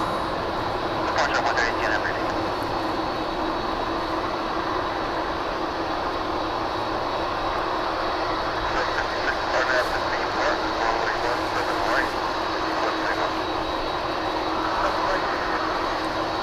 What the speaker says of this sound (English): And I do see now the American Flight 127 Dreamliner service to Seoul.